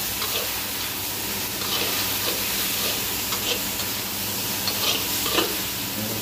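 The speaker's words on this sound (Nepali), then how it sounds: "अब मजाले चलाउने मसला।" Garam masala and spice paste for a chickpea curry stirred in a hot pan, giving a constant oily sizzle broken by repeated scraping strokes of the spoon, with no talk.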